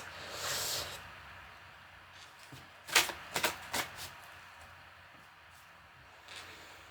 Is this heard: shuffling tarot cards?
yes